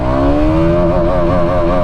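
A KTM Duke 200 motorcycle pulls hard under acceleration, its engine note a steady, loud drone with a slowly rising pitch as it climbs through a gear, close and continuous with no talk.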